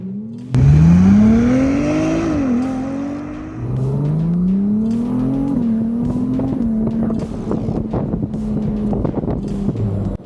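A Ferrari 296 accelerating in manual mode, heard close and loud as the engine note climbs, dips at shifts and climbs again, with wind noise throughout and no talk.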